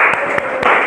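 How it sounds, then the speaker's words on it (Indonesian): Applause for a student group in a classroom setting, a short burst of several sharp claps over a bright, continuous hiss, loud and close, with no talking. "kasih tepuk tangan untuk kelompok 2"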